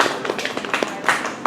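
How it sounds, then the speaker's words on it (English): Audience applause at a pub magic show after a trick, a dense, steady patter of many hands clapping close by, with a few sharper bursts poking through. "Give him a round of applause."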